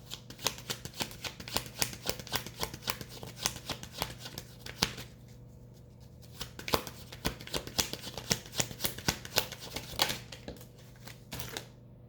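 Tarot cards riffle and slap together in quick, crisp bursts of shuffling, close and fairly loud, with a brief pause midway before the shuffling resumes; no talking.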